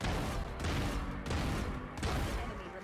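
Continuous rapid Vandal gunfire in Valorant, loud and dense, with a futuristic tone and brief breaks between three or four long bursts.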